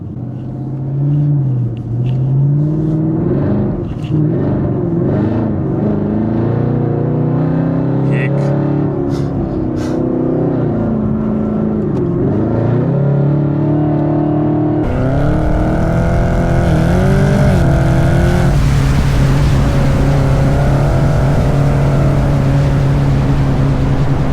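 A Chevrolet Camaro ZL1 engine roars while driving, its deep rumble rising and falling with gear changes and throttle, loud and close, with a sharper surge in revs partway through and people talking over it.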